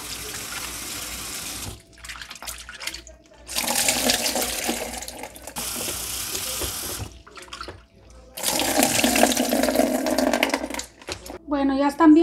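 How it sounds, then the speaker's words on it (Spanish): Water runs from a tap in several bursts as shrimp are rinsed, switching on and off, with handling noises between bursts. "Van a lavar muy bien sus camarones hasta que el agua salga clarita."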